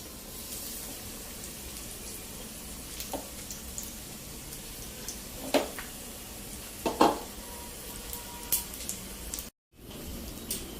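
Mayalu leaf bhaji fritters frying in oil, a soft continuous sizzle with scattered pops and a few utensil clinks, close but quiet, with no voices.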